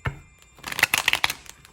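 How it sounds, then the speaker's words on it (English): Tarot cards are shuffled by hand in quick crisp riffles with a flurry of papery snaps, close and alone. "I'll shuffle this about 3 more times."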